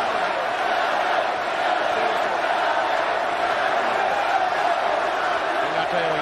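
A packed arena crowd at a RAW wrestling match cheers for Shelton Benjamin, a steady, loud roar that holds unbroken for the whole stretch, with a commentator's voice faintly beneath it.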